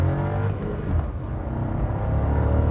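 A manual Volkswagen Tera 170 TSI launches hard from a standstill in first gear, its engine revving in a steady, loud, close rumble with a rising whir and no pause throughout.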